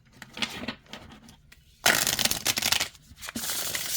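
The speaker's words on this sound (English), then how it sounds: "let's see how it shuffles" A deck of oracle cards is shuffled by hand, a few quick riffling, rustling passes followed by a louder, longer burst of flapping card noise, close up.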